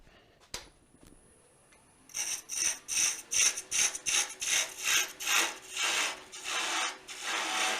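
A wood lathe spins a wooden egg while a cutting tool scrapes against it in a series of rhythmic rasping strokes, preceded by a quiet click, close and fairly loud.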